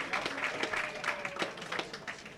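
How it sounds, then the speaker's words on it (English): Crowd applause at a women's professional bowling stepladder final, a steady wash of many hands clapping from a sizable audience, filling the whole stretch at moderate level with no voices standing out. "a well-deserved round of applause here from the crowd"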